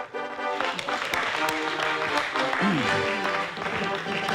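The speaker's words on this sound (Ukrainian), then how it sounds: "Аплодисменти" Studio audience applause on a 1998 Ukrainian talk show, a sustained patter of clapping with voices and a brief tonal sound mixed in.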